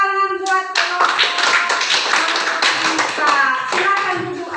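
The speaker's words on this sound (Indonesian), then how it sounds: "Tepuk tangan buat kelompok" A crowd of schoolchildren in an Indonesian classroom claps together in steady, lively applause after a group presentation, with a few young voices calling out over it.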